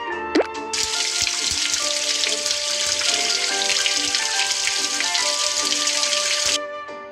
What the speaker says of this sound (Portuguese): Vamos passar as patinhas dos filhotes na água para ficarem molhadas.